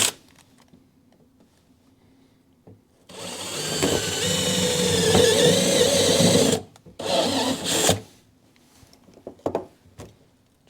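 A power drill whirs loudly for a few seconds while drilling on a mini truck near the transmission, stops, then gives two shorter bursts, with faint clicks and handling noises in between.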